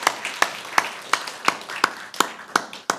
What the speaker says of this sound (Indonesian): Tepuk tangan dulu buat Tuhan Yesus saudara.